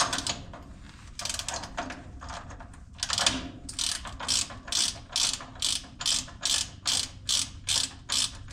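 A ratchet torquing a nut to 200 foot-pounds on a White 4-270 tractor, its pawl clicking in a steady series of loud, close, evenly spaced strokes that grow regular toward the end.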